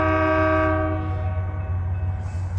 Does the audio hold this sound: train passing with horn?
yes